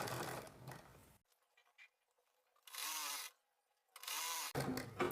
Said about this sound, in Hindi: और फिर इस पर सिलाई लगा देंगे।